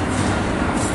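Freight train rolling past on a railroad line in the afternoon, a steady, loud, broadband rumble with dense low-end roar that holds unbroken throughout, heard close without voices.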